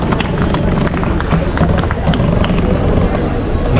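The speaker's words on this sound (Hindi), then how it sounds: "एक जोरदार तालियां अरुण अंकल की।" Loud, continuous applause from an audience at a live poetry and performance gathering, thick crowd clatter mixed with murmuring voices from start to finish.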